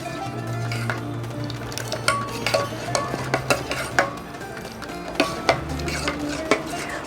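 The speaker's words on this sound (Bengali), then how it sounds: "ভালো করে বাদামটাকে মিশিয়ে নিলাম" A spoon stirring crushed nuts into a thick malai ice cream mix makes repeated scraping and clinking strokes against the vessel, at irregular intervals and close by, with a low background hum and no voice.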